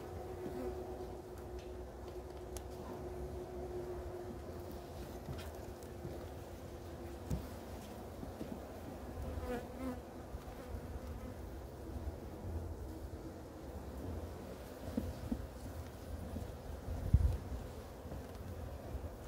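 Honey bees hum in a faint, steady drone that runs without a break while a hive is opened and checked in early winter, with a single soft knock near the end.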